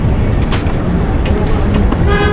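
Busy New York City street traffic during a chaotic jam, with a steady rumble of engines and several short horn toots scattered over it, loud and close.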